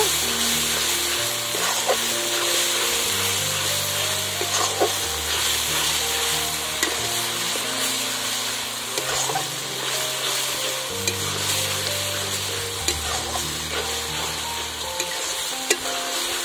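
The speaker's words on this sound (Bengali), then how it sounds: "আবার এটাকে ভালো করে নাড়াচাড়া করে নেব।" Wild greens with salt and turmeric frying in a pan, a loud dense sizzle running throughout with occasional light spatula scrapes, close up over faint background music, no one talking.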